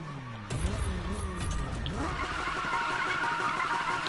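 A Toyota Supra's tires skid and squeal in Need for Speed 2015 while the engine revs and climbs, a sustained loud screech over a rising motor roar.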